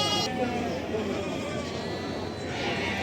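Goats belonging to a village farmer in Azerbaijan bleat amid a noisy outdoor livestock scene, their calls mixed with steady background clamor while people talk nearby.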